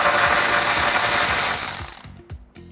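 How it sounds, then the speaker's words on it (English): A 10mm socket ratchet removes the headlight bolts on a 2005-2009 Mustang, with fast, close mechanical clicking for about two seconds. A few short clicks and knocks follow after it stops. "grab your 10mm socket and remove the 3 bolts holding in your headlight"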